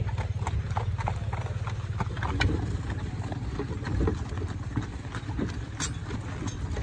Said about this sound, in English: I'm driving a horse cart.